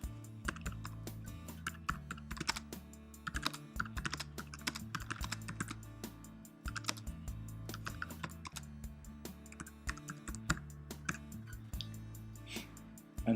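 Continuous typing on a computer keyboard, a close, rapid and uneven patter of key taps with a few brief pauses, over a low steady hum and no voices.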